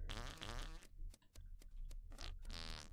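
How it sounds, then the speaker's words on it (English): Cartoonish fart sound effects from the video game Goose Goose Duck play loud and close, with a long burst at the start, a few short clicks, and another blast at the end. "I forget the fart button. It's F. F for fart."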